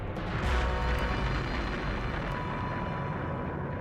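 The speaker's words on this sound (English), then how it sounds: "Massive asteroid impacts." Massive asteroid impact explosion on the moon as a sound effect, a deep, rumbling roar with an initial blast swelling then settling into sustained low rumble, fairly faint overall.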